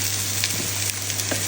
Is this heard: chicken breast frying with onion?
yes